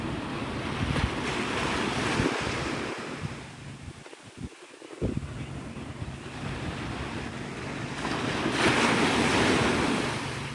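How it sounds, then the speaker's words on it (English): Breezy wind buffeting the microphone over steady surf at Navarre Beach, Florida at sunrise, a constant loud roar of waves with gusts swelling and easing throughout. "It's starting to get breezy."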